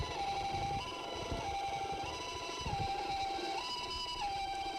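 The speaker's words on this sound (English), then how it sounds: "And next come the ambulances." Ambulance sirens wailing steadily in a continuous two-tone pattern, arriving at a Tokyo hospital during the subway sarin attack response, with a dense noisy background and no talk.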